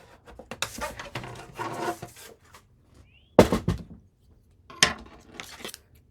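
Paper being scored along fold lines with a scoring tool while making a small handmade mini album: dry rubbing and rasping strokes in short bursts, close and clear, with quiet pauses between.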